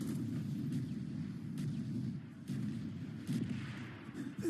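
Explosions and gunfire in a Call of Duty: Black Ops campaign mission, a sustained low rumbling barrage with repeated sharp blasts and cracks layered over continuous booming, heavy and close.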